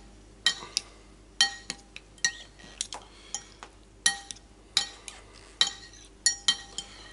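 A utensil clinking against a bowl while scallop and small Arcachon oyster tartare is mixed, with about a dozen sharp, bright taps at a steady stirring rhythm, close and fairly quiet.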